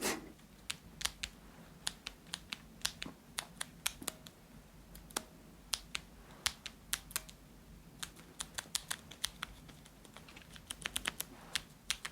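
Clicky keyboard switches pressed in quick, irregular bursts of sharp taps, close and distinct, picked up by a cheap $2 microphone over a faint steady hiss.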